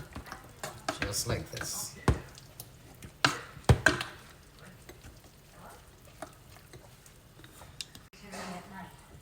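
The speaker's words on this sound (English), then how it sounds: "mash everything together and let that cheese melt" Food is mashed together with Carnation milk in a pan while cheese melts, giving soft, irregular scraping and squishing knocks alongside a quiet sizzle and a voice speaking.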